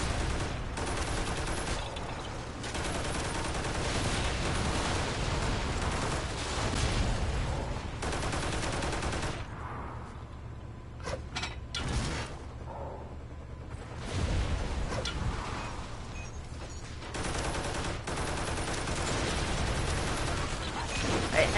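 Heavy sustained gunfire and explosive fusillades from a charged-up gun in the video game Toy Soldiers: War Chest, loud and dense throughout with a short lull midway before the barrage resumes.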